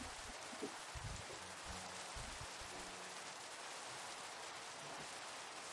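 Steady rain in the Minecraft video game, a soft even hiss of falling drops running throughout at low level, with faint low tones beneath in the first half.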